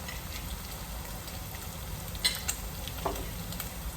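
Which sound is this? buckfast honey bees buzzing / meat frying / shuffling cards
meat frying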